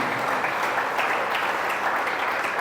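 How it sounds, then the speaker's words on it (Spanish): A church congregation applauds during a sermon, a dense, steady wash of clapping that fills the whole stretch without a break. "Denle un aplauso a Dios por su sabiduría."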